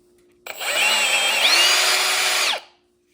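Milwaukee M18 Super Hawg cordless drill running free at high speed, a loud close whine that spins up quickly, holds steady for about two seconds with a slight pitch rise, then cuts off and winds down.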